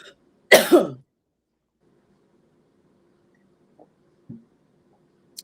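One sharp, loud cough bursts out near the start, followed by near silence with a couple of faint, brief noises later.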